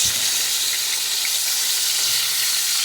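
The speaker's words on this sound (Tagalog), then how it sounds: "Kaya prito naman tayo ngayon." Loud, continuous sizzling and crackling of pompano fish frying in hot oil, close up, with no voices.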